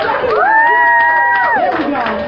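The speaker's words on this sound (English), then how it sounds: "Come on, clap it up now." A live audience cheers for a performer taking the stage, with one long drawn-out whoop ringing over steady crowd noise and voices for a couple of seconds.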